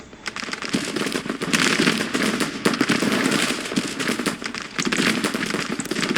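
Dense, crackling musket volleys from a Civil War battle in the Grand Tactician strategy game, rippling almost continuously with louder surges of massed fire.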